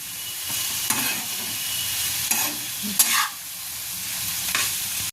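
Vetki fish fillets sautéing gently in a pan over low heat, a steady soft sizzle with a few light stirring scrapes and clinks, close and alone.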